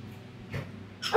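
A dog gives a soft whimpering yip followed by a short sharp bark close by in a home kitchen, brief and unaccompanied by speech.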